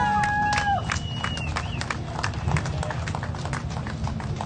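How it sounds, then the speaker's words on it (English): A crowd at the Sturgis motorcycle rally applauds a bike show winner outdoors, scattered sharp claps with a few whistles near the start, moderately loud and fairly close, over a noisy background. "Big round of applause to this man right here."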